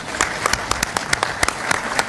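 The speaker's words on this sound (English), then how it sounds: "let's all give them a applause" A meeting audience of regional collaboration attendees applauds, individual claps popping sharply over a steady patter of many hands, fairly close and sustained throughout.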